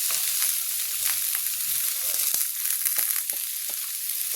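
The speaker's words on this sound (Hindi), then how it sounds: "चलिए इसको भूनते हैं, इसको डालेंगे थोड़ा सा नमक, जरा सा और भून जाए।" Potatoes with salt fry in a pan, a steady broadband sizzle with scattered crackles and a few stirring clicks, close and continuous with no talk.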